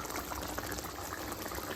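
Pindang patin tempoyak fish stew simmers down in a pot, a dense, even bubbling that stays constant through a brief moment, with no voices.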